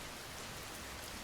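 Dense, steady rain pours without a break as a loud, even hiss, with no voices or other sounds.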